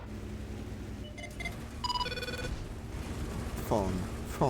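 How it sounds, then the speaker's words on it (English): A telephone rings in several short tonal bursts over a busy World of Tanks VR game soundscape, with gameplay noise continuing underneath and no talk over it. "Phone. Phone."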